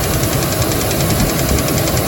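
A car engine with suspected connecting rod knock runs steadily with a dense, close mechanical knocking from low in the block, loud and continuous with no voices.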